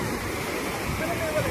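Sea waves wash onto a crowded beach at Pondicherry, a continuous loud rushing surf noise with wind, filling the short stretch.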